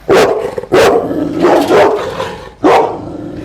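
A dog barks loudly and close by, four forceful woofs spaced unevenly, the last after a short pause, with no talk over them.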